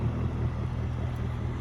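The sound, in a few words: Mercury 300 Verado outboard motor sport exhaust on boat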